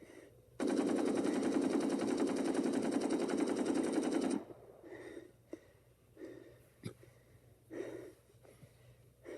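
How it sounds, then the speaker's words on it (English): AK-47 ammunition cooks off in a fire, producing a dense, loud burst of rapid rattling pops that lasts about four seconds, followed by scattered softer cracks and rustling. "not gonna run no more. It's cooking off. It's on fire."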